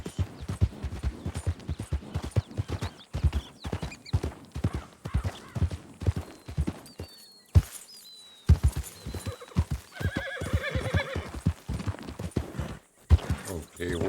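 A horse in a Red Dead style Western roleplay game clip-clops along at a steady gait, with rhythmic hoofbeats, snorts and a whinny, plus scattered game sounds and a pause midway.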